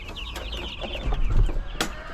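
Backyard chickens cluck close by in a rapid run of short calls, with a sharper squawk near the end over a low background rumble.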